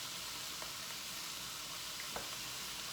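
Rice and chicken fry in a pan with a steady, loud hiss of sizzling oil, with a couple of faint scrapes of stirring rising briefly above the constant frying noise.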